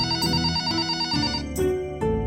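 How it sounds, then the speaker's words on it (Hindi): A phone ringtone plays a melodic electronic pattern of repeating tones, clear and close with no voices. "इतने में ही मोटा जी को फोन आता है।"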